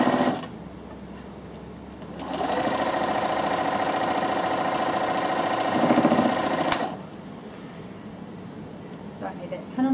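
A Bernina sewing machine stitches a seam through cotton fabric, its steady mechanical whir running continuously for several seconds in the middle before stopping, with brief handling noise around it.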